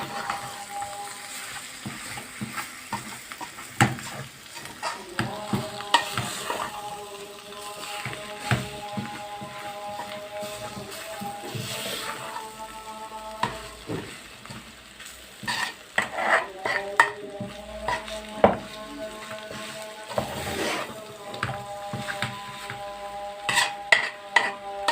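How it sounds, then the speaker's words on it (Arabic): Potatoes and spices stirred in a pan for potato burek, a steady scraping and clinking of a utensil against the pan with light sizzling, close and continuous. "احنا نقلبها بقى كده ونشرب البهارات في قلبها كده كلها."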